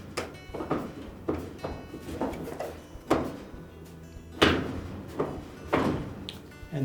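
A Frigidaire dryer's outer door is lifted off its hinges and pulled away from the cabinet. Several sharp knocks and clunks follow at irregular intervals, moderately close, each with a brief rattle after it, and no talk.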